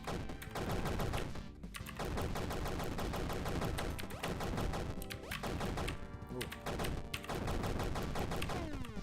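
Rapid, loud revolver gunshots in a shooting video game fire in dense bursts throughout, layered over game music and impact sounds with brief pauses between volleys.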